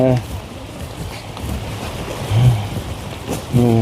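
Heavy rain pours steadily on a muddy path at Khao Kho in Phetchabun, making a constant dense hiss while people talk over it at intervals.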